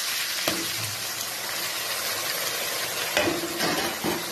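Onions dropped into hot oil with bay leaves, cooking for a thin mutton and potato curry: a steady, close sizzle of frying with a few brief knocks and clatters of utensils, no voices.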